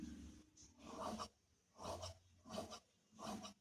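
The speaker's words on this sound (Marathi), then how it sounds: "आता खालचा भाग आपण प्रथम हे जे आकार आपला आहे तो कापून घ्यायचा आहे" Scissors cutting fabric for a small girl's nauvari saree, four or five rasping snips in an uneven rhythm, close and fairly quiet with no talk.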